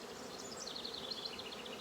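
Honeybees from a fairly strong hive buzz steadily around the opened colony, a continuous close, moderately quiet drone with wavering pitch and no talking.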